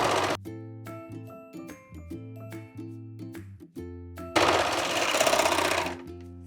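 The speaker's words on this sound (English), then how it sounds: "Let's head over to the serger and serge that sleeve opening." A serger overlock machine stitching a knit sleeve opening during a sweater-to-dress upcycle: close mechanical whirring runs in short starts and stops, ending in one longer, louder sustained burst of sewing.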